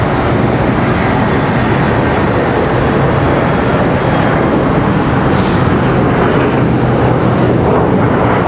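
A jet airplane departing Charlotte Douglas airport, a loud, continuous broadband roar that fills the whole stretch, steady and powerful with no speech over it.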